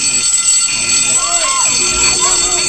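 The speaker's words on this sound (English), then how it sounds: "that's the fire alarm" A fire alarm rings loudly and continuously with a harsh, steady high-pitched electronic tone, while voices and other sounds briefly overlap it.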